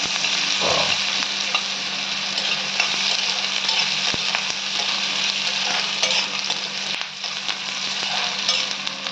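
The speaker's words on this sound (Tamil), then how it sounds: "வெங்காயம் கொஞ்சம் வதங்கட்டும்" Onions sauté in a pan for Ambur chicken fry, giving a steady, close sizzle throughout with occasional stirring scrapes and light knocks.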